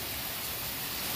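Rain falling outdoors, a dense steady hiss of drops that stays even and close throughout the short stretch, with no voices over it.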